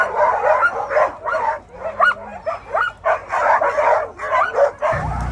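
Many sled dogs bark and yip excitedly at a race starting line in a rhythmic, overlapping chorus, close by and loud, with occasional whimpers among the barks.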